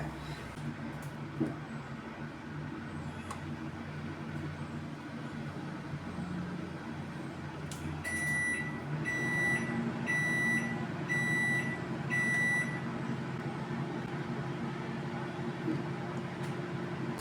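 An electric oven's timer is set to thirty minutes for baking a ghee cake after preheating to 170 degrees; a row of five short, evenly spaced electronic beeps rings out over a steady low hum.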